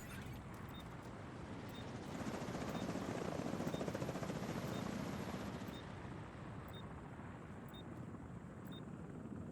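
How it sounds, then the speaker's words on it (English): Helicopter approaching an extraction zone in The Division 2, a faint rotor rumble swelling louder toward the middle and then easing off, with a soft high beep repeating at regular intervals throughout. "Helo almost at extraction zone."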